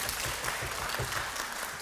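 A recital audience claps in a dense, even patter that holds steady for the whole stretch. The applause is moderately loud and heard alone, with no voices over it.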